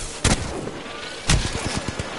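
Two sharp, close gunshots in a video game, about a second apart, each trailed by a brief crackling rattle of smaller reports, with no voices.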